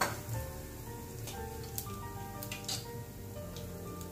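Mustard seeds, cumin and asafoetida sputter and pop in hot oil, with scattered sharp crackles over a steady sizzling hiss, close by.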